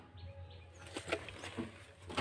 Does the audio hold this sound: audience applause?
no